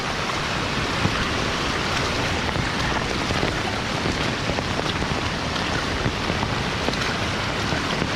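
Heavy monsoon rain falling during days of downpour alongside rushing, high-pressure flood water, a loud, unbroken wash of roaring noise with no pauses.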